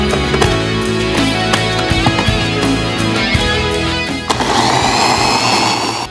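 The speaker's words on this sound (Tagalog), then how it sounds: "I-grind ko lang siya para siyang sausawa ng aming kabsa." An electric blender grinds one large sliced tomato into sauce for kabsa, a loud steady whirring drone that shifts to a rougher, busier churn near the end.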